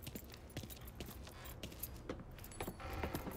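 Car keys jangle in a Mafia III game scene, a quiet metallic rattling in short bursts under faint background noise, with no talking.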